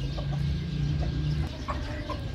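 Polish rooster and hens in a bird garden give scattered soft clucks over a steady low hum and background hubbub, faint and intermittent throughout.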